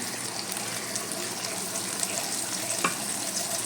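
Black cumin seeds tempering in hot oil in a pan with fried prawns, a soft steady crackling sizzle with a faint watery hiss, close and even, with one small sharp pop near the end.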